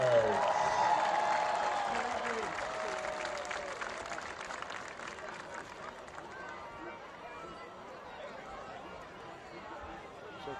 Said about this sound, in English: how about a big round of applause for the Central Valley Marching Band and Color Guards